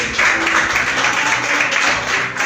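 A church congregation at a family worship service applauds in a dense, steady wash of many hands clapping together, loud and continuous throughout with no clear gaps.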